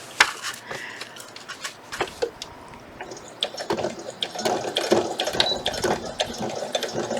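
A sewing machine top stitches fabric, producing short, uneven bursts of rapid mechanical whirring and clatter that stop and restart, with some faint talk in the background.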